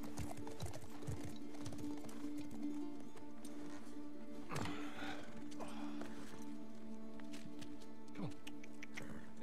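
Horse hooves clop in an irregular rhythm in The Last of Us Part 2, moderately close, while a faint voice talks now and then.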